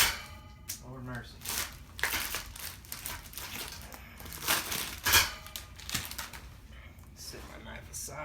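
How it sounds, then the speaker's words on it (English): A knife cuts and strips plastic coverings off the bases of a wire shelving rack, giving close, irregular crinkling, snapping and crunching bursts. "we're going to go ahead and cut the plastic off of these bases"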